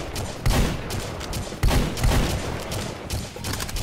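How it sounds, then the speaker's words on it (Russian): A turret in the VR shooter H3VR fires at the player, bursts of loud gunfire hitting hard at intervals over a dense, continuous roar of game noise. "Да, и вот турель меня снова пытается достать."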